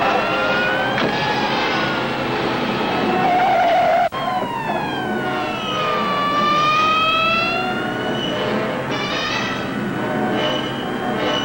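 Police car siren in an old radio drama, a loud wailing tone sweeping up and down repeatedly, joined by a second siren with rising and falling pitch, continuous and close over a steady rumble.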